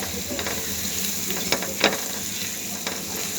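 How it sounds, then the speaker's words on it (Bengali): Spices for a dried fish curry, including chili powder, turmeric, garlic paste, green chilies and onion, frying in a pan with a steady close sizzle and occasional scrape of a spoon, no voices. "আমার মশলাগুলো একটু সামান্য কষিয়ে নিই।"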